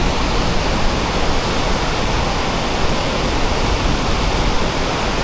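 A Yosemite waterfall roars as a dense, steady rush of falling water, loud and close, with no voices.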